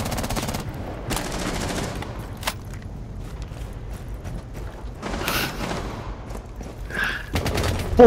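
Rapid automatic gunfire in Rainbow Six Siege during a Yacht team deathmatch round, dense bursts of shots crackling close and loud, pausing and resuming with scattered single shots and mechanical clicks.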